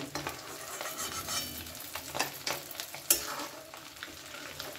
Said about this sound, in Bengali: আবারও ওই তেলের মধ্যে আমি অন্য কোফতাগুলো দিয়ে ভেজে নেব।